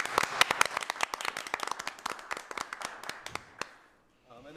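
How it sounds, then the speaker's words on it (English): Audience applause at a city council meeting: dense, fairly loud clapping from a crowd that swells, then thins out and stops abruptly near the end, followed by a brief voice. "Give them a round of applause for that."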